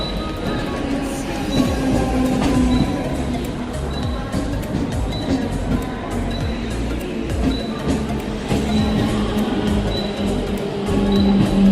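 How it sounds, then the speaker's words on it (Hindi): A Mumbai local train arrives at a station with a loud, continuous rumble of wheels and carriages, rattling and clanking, and faint high metallic squeals running throughout. "I think train has come."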